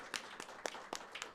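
Scattered clapping from an audience at a live small-business event, quiet and sparse, with a handful of separate claps over a moment instead of a full ovation.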